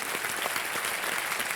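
A studio audience at a TV quiz show claps steadily and densely throughout to welcome a contestant's parents, continuous applause filling the space.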